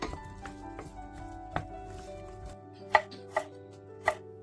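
Garlic cloves chopped with a knife on a cutting board while cooking pumpkin soup, with a few sharp, distinct chops near the end and softer knife taps before them, over a low background hum.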